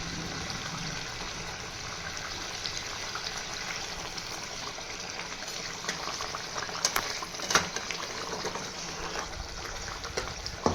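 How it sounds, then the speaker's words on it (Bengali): Curd-based curry gravy for doi katla bubbling at a boil, a continuous close crackling simmer with a few splashy bumps late on as fish pieces go into the pot. "ঝোলটা ফুটে উঠেছে, এবার আমি মাছটা দিয়ে দেবো।"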